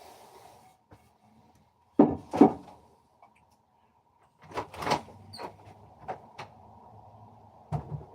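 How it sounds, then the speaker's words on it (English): A door is opened during a woodworking job, giving a short sliding, rubbing clunk followed by several brief knocks and scrapes in a quiet room. "We'll open the door and make sure this is where it needs to go."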